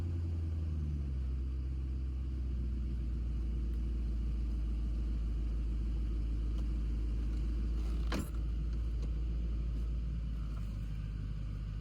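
A BMW 750i twin turbo engine idles as it warms up, a steady low rumble heard from inside the car with a faint whine, no talking.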